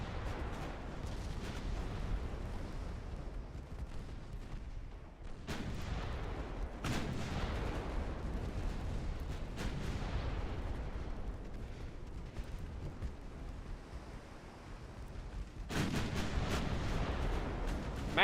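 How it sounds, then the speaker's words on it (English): Naval gunfire and torpedo detonations in a video game sea battle, with the ship Nautilus taking hits: a continuous loud barrage of heavy booms and rumbling blasts, with sharper bursts near the start, middle and end. "Massive hits and torpedo detonations."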